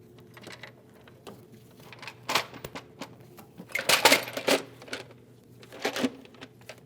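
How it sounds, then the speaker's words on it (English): A BMW X1 valve cover, 2010-2015 model, being set onto the engine produces irregular plastic and metal clicks and knocks, bunched into a louder cluster midway, close up with no talking. "Install the valve cover."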